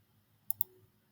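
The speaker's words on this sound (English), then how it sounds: "So let me just click like across like this." Two quick, crisp computer mouse clicks, close and faint, in a quiet room while working in a vector graphics program.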